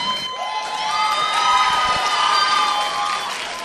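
A meeting audience claps and cheers loudly together, a dense sustained wash of applause with shouts and whistles lasting a few seconds, close and full.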